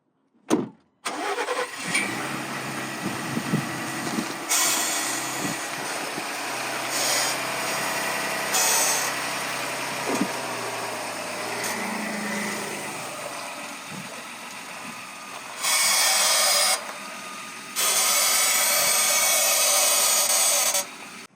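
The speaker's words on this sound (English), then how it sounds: "Let me turn the wheels back and forth. Try to pinpoint where my noise is coming from." A Ford Bronco fitted with aftermarket tie rods, its engine running steadily at idle while the steering wheels are turned back and forth, a close mechanical hum with occasional knocks and a few brief louder surges.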